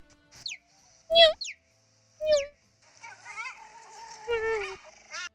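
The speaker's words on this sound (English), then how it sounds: "the best this spotted doormat can do is chirp like a bird" A cheetah gives high, bird-like chirps and squeaks in separate short bursts with pauses between, some sliding in pitch, fairly close and clear.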